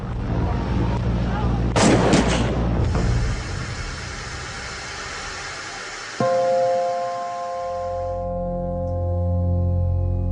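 A few loud, sharp gunshots crack close by in quick succession during the Peoples Temple massacre, followed by lingering noise and a vehicle engine idling.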